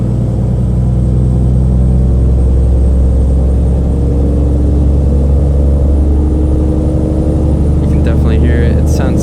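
A Western Star 4900FA truck engine in the American Truck Simulator game, heard from outside as a loud, steady low diesel rumble and drone that holds throughout without pause.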